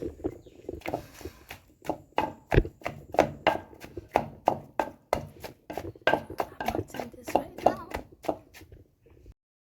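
Ingredients for Ofe Akwu palm-nut stew are pounded or ground in a close, steady rhythm of sharp thuds, about two a second, ending abruptly, with a voice talking faintly underneath.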